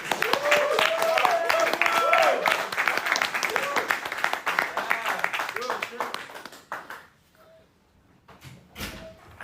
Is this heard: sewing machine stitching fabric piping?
no